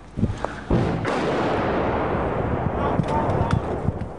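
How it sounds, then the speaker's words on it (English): A heavy thud of an exploding artillery shell in Ukraine, followed by rumbling booms and sharper blasts, with a voice speaking over the noise. "As we left the building, there was another bang."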